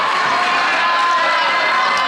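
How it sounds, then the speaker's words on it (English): A loud high school boys basketball crowd roars during a free throw, a dense continuous wall of cheering and shouting from packed stands with no break. "Crowd really loud."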